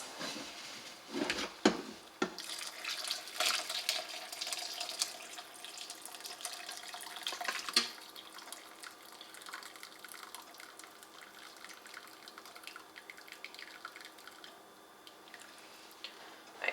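Hot bone broth poured from an Instant Pot, a continuous liquid trickle and splash with a few sharp clatters near the start, steady and close for the whole stretch with no talking.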